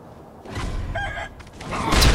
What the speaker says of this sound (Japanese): この時代の鶏強い、マジで